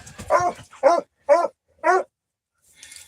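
A single dog barks four times in a steady, evenly spaced rhythm, loud and close in a quiet setting, followed by a faint rustle.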